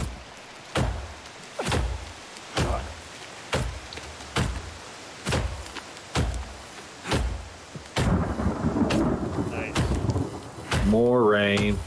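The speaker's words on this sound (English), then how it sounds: "More rain. More water." Rain and thunder in the survival video game The Forest: heavy, regular thumps recur about once a second, followed by a dense rain wash and a brief tonal sound near the end.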